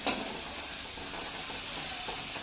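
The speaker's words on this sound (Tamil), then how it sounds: "வெங்காயம் நல்லா வதங்கிடட்டும்." Onions sautéing in a pan, a steady close sizzle with a faint stirring scrape, even and continuous throughout.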